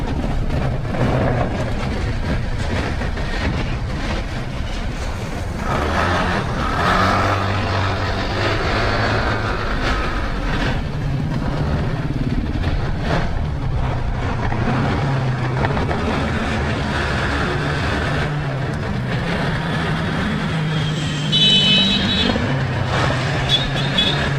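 Large trucks on a dark road at night: a constant loud low rumble of heavy engines and road noise, swelling slightly as vehicles pass close by, with no voices heard.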